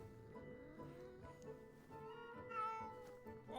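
A house cat meows several times, faint and fairly close, over a low steady background hum.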